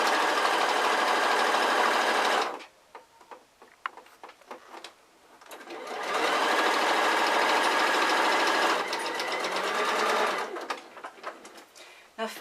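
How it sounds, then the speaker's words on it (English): Sewing machine stitching down both sides of a felt coin purse, whirring rapidly in two sustained close runs with a pause of scattered ticks and handling sounds between them. "And we'll just sew down both sides."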